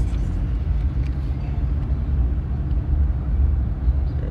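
A car rolls through an underground tunnel, filling the space with a steady, loud, low rumble of engine and road noise that barely changes throughout.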